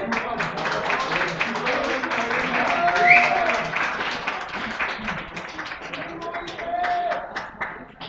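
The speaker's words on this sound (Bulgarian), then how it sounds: "Аплодисменти за тях." Audience applause at an IT League 2016 award ceremony for award winners, a steady moderate patter of many hands lasting several seconds with murmuring and talk mixed underneath.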